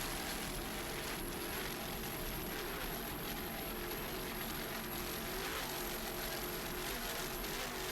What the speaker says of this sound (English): It's a 33-foot power play. Powered by two 650 horsepower Innovation inboards with Speedmaster drives.